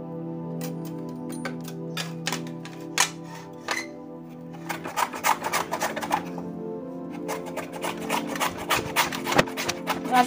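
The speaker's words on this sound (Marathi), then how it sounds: "हे अशी कैरी आपण किसून घेणार।" Raw green mango is rubbed against a kitchen grater in scraping, rasping strokes, slow and spaced at first, then quicker and denser. The sound is close, moderately loud and has no talk over it.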